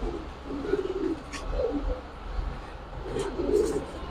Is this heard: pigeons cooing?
yes